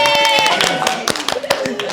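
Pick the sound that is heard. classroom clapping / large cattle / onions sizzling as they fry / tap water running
classroom clapping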